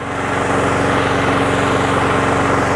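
A small lawn mower engine runs loud and steady at close range, a constant chugging drone with no pauses.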